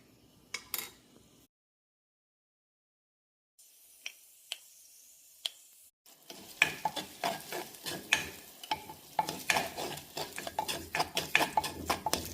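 Fenugreek and mustard seeds frying in hot oil in a pan as they are stirred: sparse crackles at first, a silent pause, then a dense close run of popping, sizzling and scraping, with no talk.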